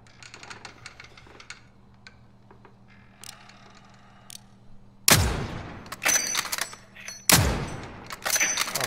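Gunfire in the video game Warzone: after quiet game ambience with faint clicks, two loud close bursts of rapid shots ring out a couple of seconds apart, each trailing off into scattered echoing cracks.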